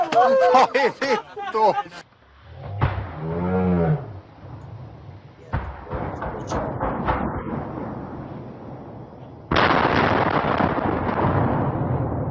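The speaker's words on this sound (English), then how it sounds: "now for the explosion and stuff." A large explosive charge goes off in heavy bursts: deep booming blasts with rumbling, broadband roar that swells and sustains loudly near the end, preceded by people talking.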